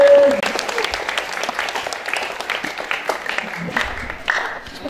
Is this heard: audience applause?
yes